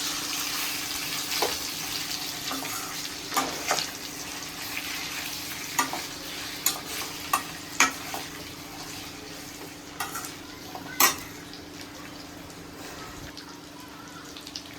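Green mango sautéing in coconut oil gives off a soft continuous sizzle, with intermittent sharp clicks and scrapes from stirring spaced irregularly over the quiet background.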